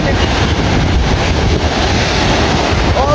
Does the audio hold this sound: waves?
yes